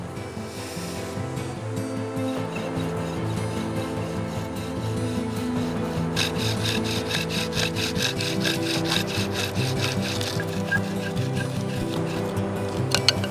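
A continuous grinding, rasping rub of a bow drill working a hole into a wooden blank, close and steady throughout, with a rapid rhythmic texture in the second half.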